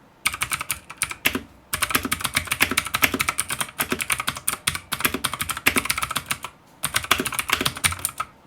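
Rapid clacking of a mechanical keyboard with ABS plastic keycaps being typed on, steady bursts of keystrokes close up with brief pauses, no voices.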